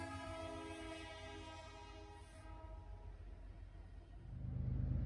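Freight train CN 3218, a 100th anniversary unit, rolls past with a sustained horn blast that fades while the rumble of the train grows heavier toward the end, heard from a distance.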